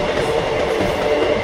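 A passenger train runs along tracks, giving a loud, continuous rumble with rolling wheel noise heard from on board.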